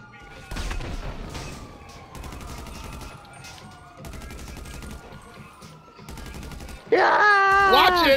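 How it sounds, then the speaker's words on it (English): Rapid video game gunfire in repeated automatic bursts, fairly loud and steady across the whole stretch, with a brighter, louder electronic burst near the end. "All you gotta do is shoot the driver."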